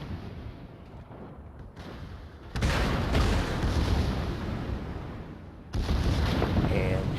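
Heavy battleship main guns boom in World of Warships aboard the Nelson: two loud, rumbling salvos land a few seconds apart, each a sudden broadband blast rolling over a low background of engine noise and faint voices.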